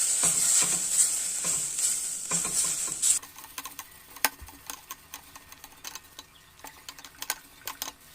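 Green chillies and masala powder stirred in a pan for an egg dish, a hissing fry for the first few seconds, then a quieter stretch of scattered ticks and light scraping taps from the spoon.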